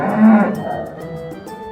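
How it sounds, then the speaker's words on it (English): A wild cow gives a single loud, low, drawn-out moo, close and alone, swelling at the start and trailing off. "A wild cow."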